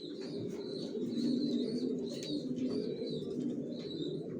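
A racer pigeon coos in soft, repeated throaty phrases, close and fairly quiet, with a few faint chirps alongside.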